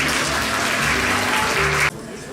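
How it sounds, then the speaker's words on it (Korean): Audience applause at a women architects' workshop ceremony, welcoming an award-winning architect to the stage: steady, dense clapping from a sizable crowd that cuts off abruptly near the end, leaving quiet room tone. "큰 박수로 맞이해 주시기 바랍니다."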